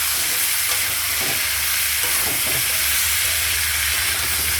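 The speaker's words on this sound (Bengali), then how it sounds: "পাঁচফোড়ন দিয়ে সজনে ডাঁটা কুমড়ো আলু দিয়ে বন্ধুরা তরকারি করছি।" Vegetable curry of drumstick, pumpkin and potato frying with panch phoron, a loud steady sizzle with occasional stirring scrapes, close up and without talk.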